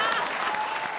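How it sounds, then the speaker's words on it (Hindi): Studio audience at a Hindi TV comedy show breaks into loud, steady applause, a dense wash of clapping that holds for about a second without voices over it. "जोरदार तालियां।"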